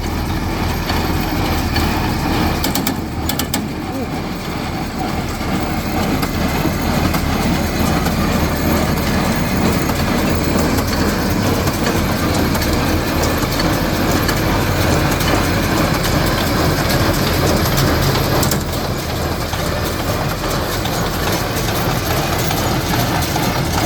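Tractor engine running hard while pulling a straw baler in a field, a loud continuous rumbling drone with rhythmic mechanical clatter, revving steadily with no voices.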